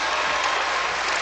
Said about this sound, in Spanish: Ese gran aplauso para María de Luz de San Gabriel.